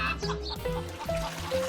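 Short bursts of hen clucking, a few quick calls mixed with soft chirps over a light musical background in an animated children's story.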